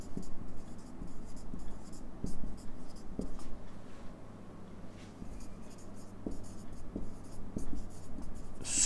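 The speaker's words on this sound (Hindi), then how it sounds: "एक लाइन लिख दीजिए" A pen writing a line by hand on paper, soft scratching strokes with short taps repeating over several seconds under a steady low hum, close and quiet.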